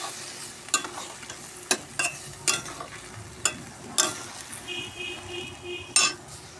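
A spoon scrapes and knocks against a pan while boiled kohlrabi is stirred, giving sharp irregular clinks over a faint sizzle, close and fairly quiet, with a brief high ringing tone near the end.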